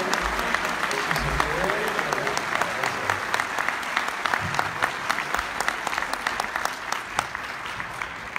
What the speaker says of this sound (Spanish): un fuerte aplauso para esta banda